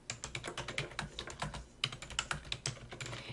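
Someone types a query on a computer keyboard, fast irregular key clicks tapping continuously at close range, quiet and without speech.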